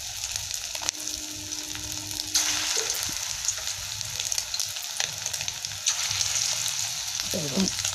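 Chicken pakoras dropped one by one into hot oil for chilli chicken, a steady close sizzle and crackle running throughout with a brief bubbling burst near the end.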